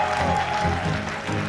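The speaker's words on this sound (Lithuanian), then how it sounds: "aplodismentai." A concert audience applauds steadily at a European music event, a dense, continuous patter of many hands clapping close by that holds at an even level throughout, with no voices standing out.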